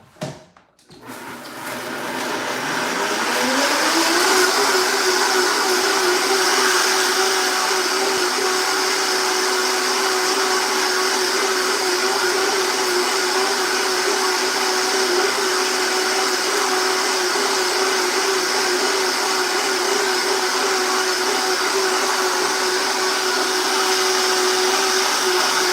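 A Vitamix blender motor spins up quickly and then holds a steady, loud, continuous whir with a sustained tonal hum for the rest of the stretch, with no talking over it.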